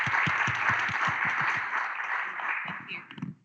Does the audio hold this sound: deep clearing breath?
no